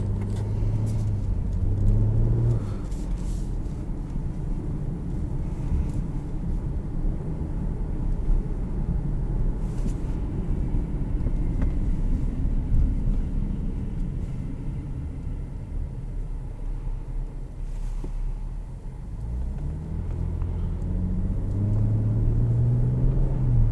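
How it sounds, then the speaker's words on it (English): Steady road and engine rumble from inside a 2018 Jeep Cherokee Latitude on the move, a constant low drone with faint tire noise and a few light bumps throughout, no one talking. "Let's go for a drive."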